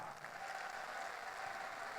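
A crowd at a political party's presidential primary rally in a large hall applauds to welcome guests. The applause sounds faint and distant, a steady wash of clapping.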